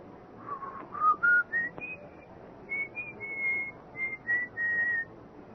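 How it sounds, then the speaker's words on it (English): Someone whistles an old tune at night, a clear, fairly quiet melody of rising and falling phrases with short breaths between them, heard alone. "I heard it. The whistling. It was an old tune."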